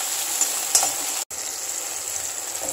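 Tomatoes and onions sautéing in a pan, a steady, even sizzle up close with a few light stirring taps and a brief cut near the middle, no speech.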